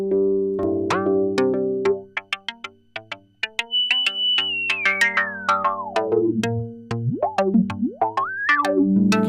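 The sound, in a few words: Happy Nerding MMM VCF filter resonance oscillating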